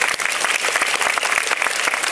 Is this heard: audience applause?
yes